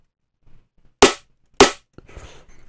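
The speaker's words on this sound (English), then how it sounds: "now let's listen to both of our snares together" Two sharp, punchy snare drum samples played back in Ableton Live, loud isolated hits about half a second apart, followed by faint soft sounds.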